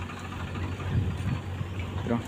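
A Saurashtra tractor engine runs steadily in a village, a continuous low rumble with a faint knocking beat throughout, fairly close, with background voices and activity mixed in.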